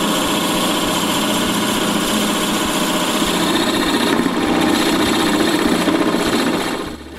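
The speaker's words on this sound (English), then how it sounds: "I drill a 3/4 inch hole in the middle of each one by clamping them with a wood clamp." A drill boring a 3/4 inch hole through a turned walnut beading tool held in a wood clamp, a loud, steady motor whine with a slight load change midway before winding down at the end.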